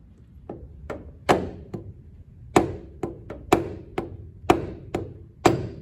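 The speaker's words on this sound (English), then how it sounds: "We're just going to give it a tap now to crack it." A hammer taps a stuck propeller shaft to loosen it, producing about a dozen sharp metallic knocks at an uneven rhythm, close and clear against a quiet background.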